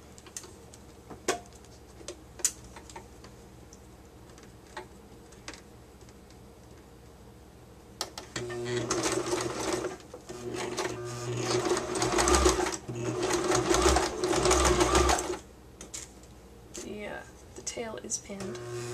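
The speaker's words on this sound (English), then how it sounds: "I have the machine set on zigzag with a pretty narrow zag and a short stitch length." A sewing machine runs in steady zigzag stitching with a narrow zag and short stitch length, attaching doll wig extensions, running in two long bursts after a stretch of light clicks and handling noise.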